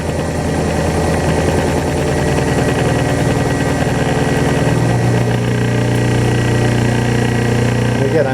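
A lab electric motor fed at 80 volts and spinning near 1800 RPM runs under an applied load, giving a steady, loud humming drone with layered tonal whine that holds throughout.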